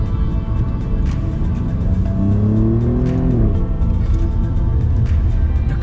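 Alfa Romeo Giulia Quadrifoglio with its turbocharged V6 pulling hard under acceleration, a loud, close, continuous engine roar whose pitch rises and shifts through the gears.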